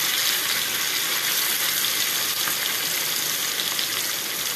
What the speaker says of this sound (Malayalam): എണ്ണ ചൂടായിട്ടുണ്ട് അപ്പോൾ അരപ്പ് പുരട്ടി വെച്ച മീനും കൂടെ കുറച്ചിടാം